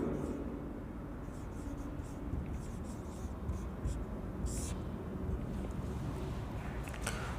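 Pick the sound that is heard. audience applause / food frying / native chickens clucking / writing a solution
writing a solution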